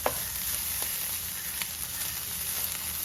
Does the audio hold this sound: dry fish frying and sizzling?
yes